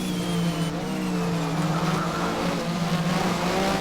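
Porsche Super Cup race car fishtailing with oversteer in the Race07 racing game at Brno, its engine droning steadily and loudly while tires squeal through a turn, with no break in the sound.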